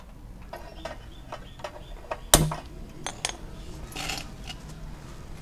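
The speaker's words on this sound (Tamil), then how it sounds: "எண்ணெய் சட்டியை போட்டுருவோம்." A metal oil pan is set down on a kitchen stove with one sharp, close clank, surrounded by lighter scattered clinks and knocks of cookware in a quiet room.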